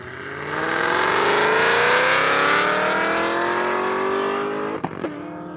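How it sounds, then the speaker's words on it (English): A turbocharged car accelerates hard along an airstrip in Independence, Kansas, its engine note climbing loud and steady for several seconds before a sharp shift or lift near the end. "that car moves. It really does"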